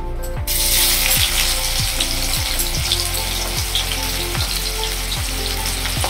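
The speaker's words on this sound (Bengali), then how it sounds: "এখন তেল এসে গেছে, তখন বেরেস্তাটাকে ভেজে নেবো" Sliced onions frying in hot oil in a kadai for beresta, a steady loud sizzle with bubbling oil, bursting up sharply at the start and holding dense and continuous throughout, with a repeating low clunk from the stove or pan.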